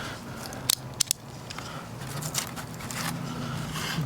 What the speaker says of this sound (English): So we'll just cut a slot in this one.